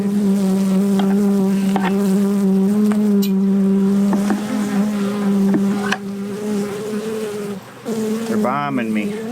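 Agitated honeybees swarm around an open hive during an inspection, their loud, dense, steady buzzing close by throughout, with a few brief bumps and rustles.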